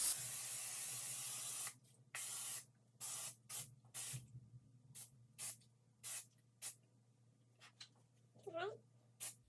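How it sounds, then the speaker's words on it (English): A continuous hiss of aerosol cooking spray into a cake pan runs for a couple of seconds, then comes in a series of short, close bursts of varying length. "So we got our cooking spray in our pan. Just gonna spray that real quick."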